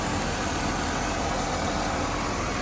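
Mercedes-Benz W210 or W124 engine running right after yearly maintenance, a loud, continuous idle rumble close by with no talk over it.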